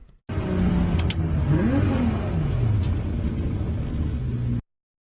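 A Porsche 992 engine, heard from inside the car, rises in pitch as it revs and then settles back to a steady, loud idle before cutting off abruptly.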